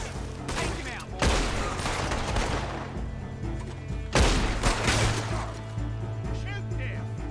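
Bursts of gunfire in a Red Dead Redemption 2 shootout: two heavy volleys of rapid shots around one and four seconds, with scattered shots and a steady rumbling game backdrop between them.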